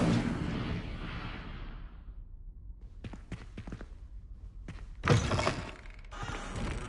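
A spell in the Hogwarts Legacy video game: a dense burst of crackling, crashing noise fades over about two seconds, then a few sharp clicks and one more bright, loud blast near the end.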